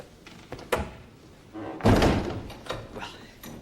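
A wooden door in a palace chamber is shut with a firm thud and slam, preceded by lighter knocks and handling noises, close and fairly loud with no talking over it.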